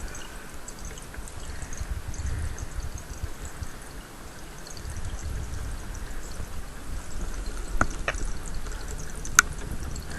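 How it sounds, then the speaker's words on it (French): A chemistry titration in which solution runs quickly from a burette into a flask below, giving a steady, soft pouring and trickling wash that continues throughout with faint small clinks near the end. "je vais verser relativement vite la solution, et je vais regarder à quel moment elle change de couleur"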